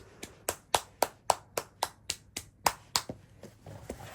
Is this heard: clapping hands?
yes